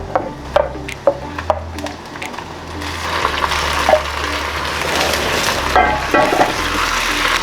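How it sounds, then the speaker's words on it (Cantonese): Chicken pieces fry with garlic in a clay pot for Taiwanese three cup chicken, giving a steady crackling sizzle. Sharp utensil taps and scrapes break through now and then, growing busier as the meat goes in. "佢開始變顏色咗，再多一下，我哋就可以落肉啦。 啱嗰隻肉將佢放落去啦"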